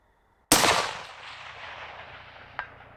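A single rifle shot fired at night toward a target 500 yards away, a sharp loud crack followed by a long fading echo across open ground, with a faint distant impact sound about two seconds later.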